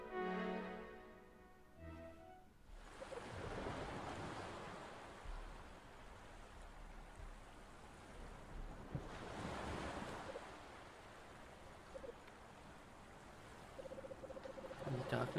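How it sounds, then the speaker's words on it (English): Crashing ocean surf in the video game Anodyne 2, a broad steady roar of breaking waves with wind after a brief quiet opening, swelling again near the middle and continuing to the end. "from the silence, the crashing of waves"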